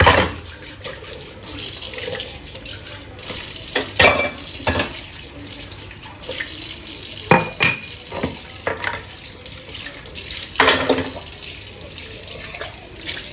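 Water runs from a stiff kitchen tap into a sink, splashing unevenly with intermittent clatters and knocks, heard up close over a quiet background.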